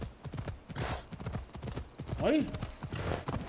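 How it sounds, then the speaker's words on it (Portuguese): A horse gallops in the video game Assassin's Creed Odyssey, its rapid hoofbeats drumming in a quick, steady rhythm with a short whinny in the middle, while players talk over it. "Corre com esse cavalo, doidão."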